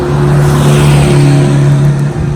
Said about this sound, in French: Laissez passer la voiture.